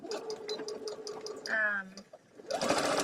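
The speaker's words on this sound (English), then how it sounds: "I just thought I'd come on and sew, even if it's quiet for a little bit." A sewing machine stitching in rapid bursts with a steady mechanical whir, close, while someone talks over it.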